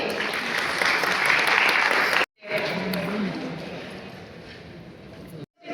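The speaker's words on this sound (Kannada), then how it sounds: "ಚಪ್ಪಾಳೆ ಬರಲಿ." A crowd at a community award and talent felicitation ceremony breaks into strong, sustained applause, a dense wash of hands broken by two abrupt cuts, with faint voices in the background.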